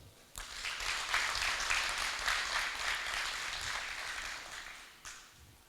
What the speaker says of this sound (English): I think you deserve a round of applause.